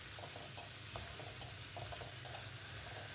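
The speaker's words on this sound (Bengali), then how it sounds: "তারপরে জল ঝরিয়ে এই তেলের মধ্যে দিয়ে দিলাম, দিয়ে খুব ভালোভাবে ভেজে নিচ্ছি।" Soaked, drained moong dal fries in hot oil with a quiet, steady sizzle, and soft stirring scrapes and taps come at irregular intervals.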